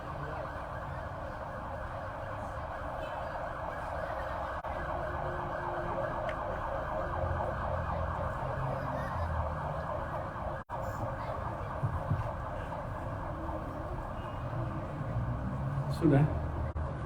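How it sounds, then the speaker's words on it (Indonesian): An ambulance siren wails steadily at a distance, a repeating tone sustained under ongoing speech as the vehicle passes. "Ambulan ya? Ya, kita hormati ambulannya."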